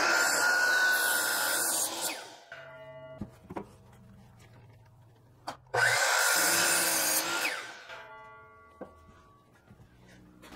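A miter saw set at 45 degrees cuts through wood in two loud bursts, motor whine rising and spinning down between cuts, with small knocks and handling noises in the quieter gaps.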